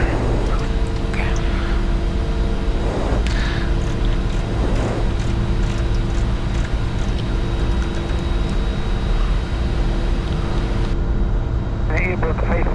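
Cockpit of a Challenger 605 business jet climbing out after take-off from Grosseto airport, a loud, steady engine and airflow roar filling the whole stretch, with crew voices and radio chatter speaking over it.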